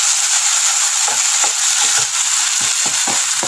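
Squid masala fries in a pan after garlic ginger paste is added, giving a steady, close, loud sizzling hiss with soft, irregular taps and scrapes of a ladle.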